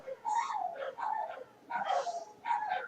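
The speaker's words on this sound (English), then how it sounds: "if you hear that barking in the background, that's just dogs barking." Several dogs bark and yip in short, fairly close bursts, with a whimpering edge between barks, alone without talk.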